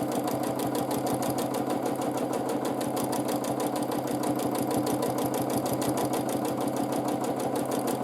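A sewing machine does free motion quilting, running without pause in a fast, even mechanical rhythm, close and steady throughout.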